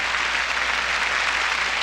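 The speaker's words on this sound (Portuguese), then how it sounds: "Uma salva de palmas para Jesus" A church congregation applauds for Jesus in a dense, steady round of clapping that fills the space throughout, with no voices over it.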